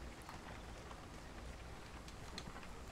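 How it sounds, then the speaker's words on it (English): Steady rain falling in the Vigor video game, a continuous soft wash of drops with faint patters, low and even throughout with no talk. "With the rain and everything, it makes it hard to hear."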